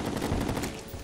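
A short, dense rattle of gunfire from a Terraria gun, a rapid run of shots over about a second with no gaps, fairly even in level and heard alone.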